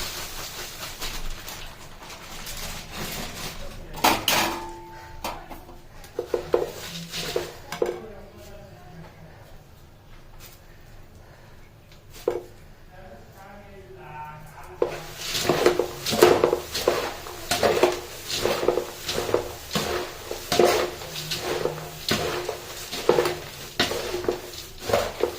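Puffed rice (mandakki) being stirred with salt, chili powder and turmeric in a pot, with a quiet stretch giving way to repeated rhythmic scraping and rustling strokes against the metal, close and fairly loud, with a voice speaking intermittently.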